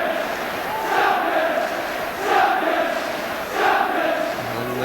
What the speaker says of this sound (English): And the crowd, meantime, cry champions.